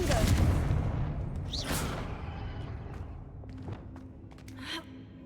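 A Confringo blasting spell in Hogwarts Legacy sets off a loud burst that fades into a rumbling tail, followed by smaller thuds and a whooshing hiss, with speech underneath.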